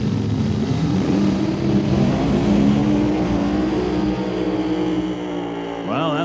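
A Mustang drag car with a supercharged Walt Austin Racing Ford Hemi and screw blower roars loud and close in one sustained, slightly wavering run of engine noise that eases off near the end.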